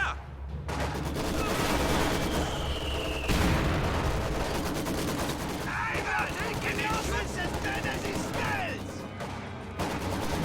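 Machine gun fire in a real-time strategy video game crackles in dense bursts and overlapping volleys, with distant explosions and battle noise layered throughout, and someone talking over it.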